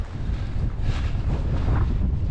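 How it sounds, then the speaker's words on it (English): Strong wind roars and buffets the microphone on an exposed slope of Castle Mountain during a hike, a steady, close, blustery rush with no other sounds. "apparently there's just really bad wind statewide"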